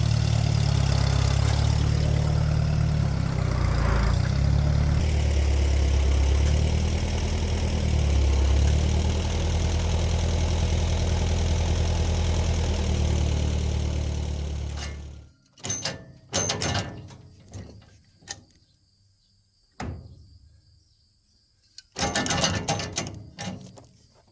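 An old tractor engine chugs loudly and steadily for about fifteen seconds, then cuts off, followed by scattered metallic clanks and knocks.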